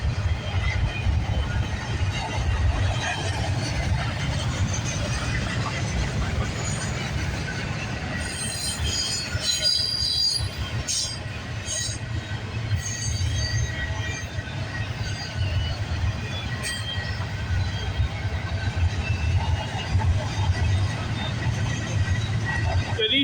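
A long intermodal freight train rolls steadily past, a continuous low rumble of wheels and cars with occasional high metallic squeals from the rails.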